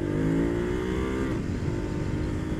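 A 2016 Ducati Hyperstrada motorcycle engine pulls hard near full throttle, its rising harmonic drone loud and close under wind noise before the pitch levels and the roar continues steadily.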